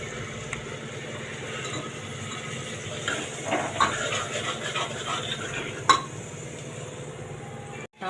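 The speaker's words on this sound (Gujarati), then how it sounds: "હવે એમાં આપણે આ સુધારેલું શાક નાખી દઈશું." Chopped papdi beans and brinjal go into a pan and are stirred, giving soft scraping, sizzle and occasional metallic clinks over a steady background hum.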